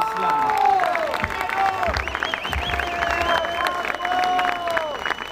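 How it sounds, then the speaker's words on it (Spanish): A concert crowd claps loudly and cheers, with tonal shouts or whistles rising over a thick wash of applause that holds steady throughout. "Por favor, un aplauso bien fuerte."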